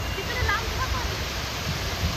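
River water rushes continuously at the Kundmala picnic spot near Pune, a dense broadband roar filling the whole span, close and steady with no clear talk on top.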